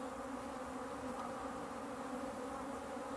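Agitated African honey bees buzz in a dense, continuous drone around an opened hive during a post-winter inspection, close and steady with no pauses and no voices.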